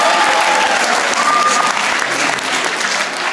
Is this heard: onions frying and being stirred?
no